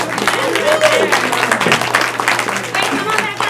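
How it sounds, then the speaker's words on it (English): A round of applause at a real estate team meeting, moderately loud claps from a small group over a steady low hum, with voices and chatter running through the clapping. "Let's give her a round of applause."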